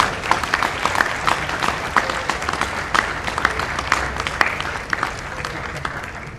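Crowd applauds the pardoned Thanksgiving turkeys at the US presidential pardon ceremony, steady clapping for about six seconds with scattered sharper claps over a busy crowd murmur, with some talk mixed in.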